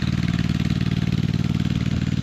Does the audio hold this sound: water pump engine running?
yes